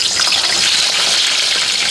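Potatoes frying in a pan on a home stove, a loud continuous hiss and crackle of oil that stays even throughout with no talking.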